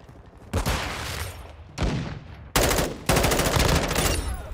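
Bursts of automatic gunfire in Call of Duty Modern Warfare II, loud and close, firing in several separate sustained volleys with short gaps between them.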